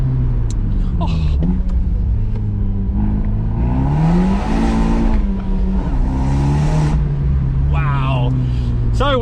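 An Abarth 124 Spider cruises along winding country roads in winter, its engine droning and swelling as it revs through gears, with people talking over the steady road and engine noise.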